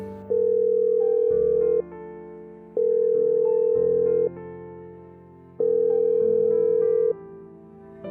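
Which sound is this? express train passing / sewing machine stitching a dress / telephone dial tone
telephone dial tone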